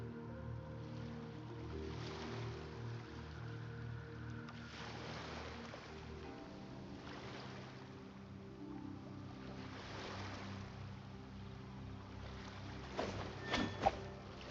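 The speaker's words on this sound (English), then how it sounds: "The sound of the ocean waves." Continuous wash of ocean waves in the Genshin Impact game world, soft broadband surf swelling and receding in slow surges with a faint low musical drone underneath and a few brief clicks near the end.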